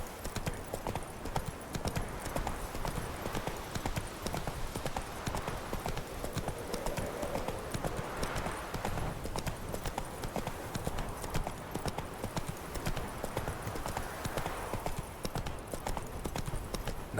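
Roach, the horse in The Witcher 3 video game, gallops with steady, rapid hoofbeats that run continuously and loudly throughout, with no speech over them.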